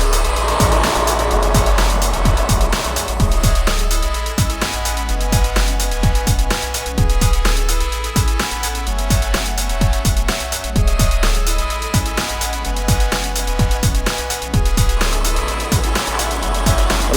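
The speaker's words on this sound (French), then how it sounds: "je suis en train de rouler sur un prototype, parce que c'est vraiment l'un des premiers qu'on utilise, surtout avec un moteur Xofoix" Riding a prototype fat e-bike with a Xofo mid-drive motor produces loud, continuous rushing noise with a steady motor whine and dense rattling clicks throughout.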